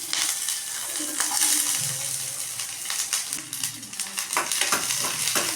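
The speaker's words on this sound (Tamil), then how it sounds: "ஒரு பேன் வச்சு அதில் ஒரு பெரிய வெங்காயத்தை சின்னதாக கட் பண்ணி அதை நான் வதக்கிக்க போகிறேன்" Finely chopped large onion sautéing in a little oil in a pan, a steady sizzle broken by frequent scraping and clinking stirs, fairly close and loud.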